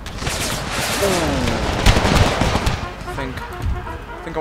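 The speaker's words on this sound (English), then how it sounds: "Hear the rattle of the muskets. Keep up the firing." A dense rattle of musket fire from American Civil War infantry in a battle game mod, continuous overlapping shots crackling close and loud, with a shouted voice briefly heard among the din.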